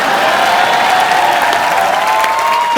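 A dense, steady burst of crowd applause with cheering mixed in, loud and sustained for a few seconds.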